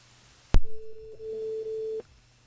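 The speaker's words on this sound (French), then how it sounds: "Alors, Olga, décroche le téléphone ce soir." A sharp click followed by a single steady electronic tone on a phone line during a live radio call-in show, lasting about a second and a half before cutting off.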